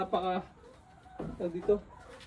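Laying hens on a small backyard mini farm cluck in two short bursts of low, throaty calls, close by and moderately loud, with brief quiet between them.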